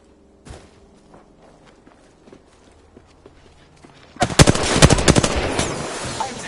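Gunfire in the video game Apex Legends starts as a few sparse distant shots and footsteps, then bursts into loud, rapid automatic fire for the last couple of seconds.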